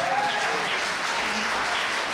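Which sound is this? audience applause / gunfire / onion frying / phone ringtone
audience applause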